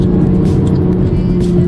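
Steady low exhaust burble from a BMW i8 on the road, a continuous deep rumble with a smooth drone, close and loud throughout with no talk.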